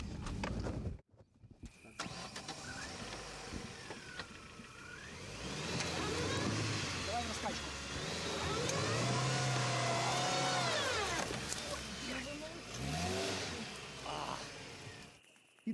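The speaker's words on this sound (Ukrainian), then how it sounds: "У повній темряві ми мчимо по зарослій ґрунтовці, що веде крізь мінні поля." A car drives in full darkness along an overgrown dirt track through frontline minefields. After a brief silence the engine rises and falls in long surges, rough and fairly close.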